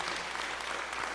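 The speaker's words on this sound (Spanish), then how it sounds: "Dale un aplauso al Señor." Applause from a church congregation during a Spanish-language sermon, a steady dense wash of clapping filling the short moment with no voices over it.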